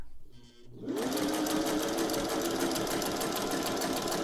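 A Singer 401A sewing machine starts up after a brief quiet moment and runs steadily, stitching a longer stitch with a fast, even mechanical whir and needle rhythm, close and clear, with no talking.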